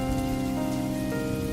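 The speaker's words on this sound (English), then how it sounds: "The rain pounded down." Rain pounding down steadily during a drive, a dense, loud, unbroken hiss of drops drumming on the car, with no voices.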